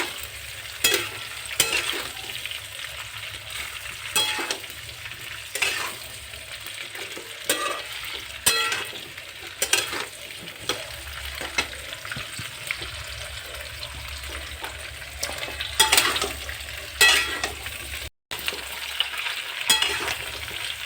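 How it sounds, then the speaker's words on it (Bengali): Pickle pieces fry in a pan in small batches, a steady close sizzle with repeated scraping stirs and clinks of a spatula against the pan. "আচারটা অল্প অল্প করে নিয়ে আমি ভেজে ভেজে আর রেখে দেবো।"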